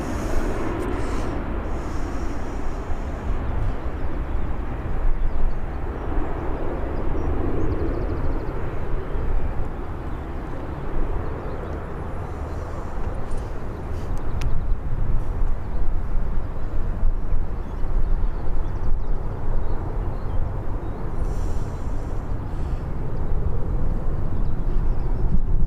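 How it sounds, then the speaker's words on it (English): A Boeing Dreamliner departing Birmingham airport gives a steady, moderately loud engine roar with deep rumble, swelling slightly midway and holding as it continues, with no talk. "Swing around for the second Dreamliner departure."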